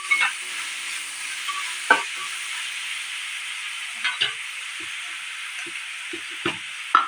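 Dried fish curry being stirred in a pan, Telangana style: a steady sizzling frying hiss runs throughout, broken by scattered soft scraping knocks of the spoon against the pan.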